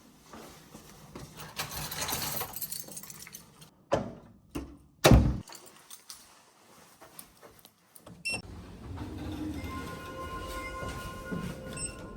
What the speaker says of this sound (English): Doors closing. Elevator going down.